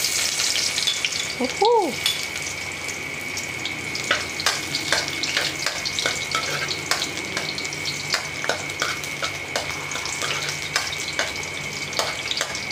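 Garlic sizzles steadily in a hot pan as the start of a kare-kare, a continuous crackling fry with a brief excited shout from a person near the beginning.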